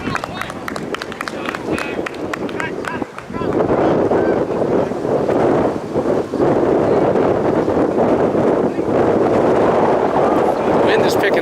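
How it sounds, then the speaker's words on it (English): Strong wind picking up during a high school soccer game, roaring and buffeting the microphone in a loud, continuous low rush that surges after a brief dip, with a commentator talking throughout. "The wind is picking up now, blowing into Zach's face."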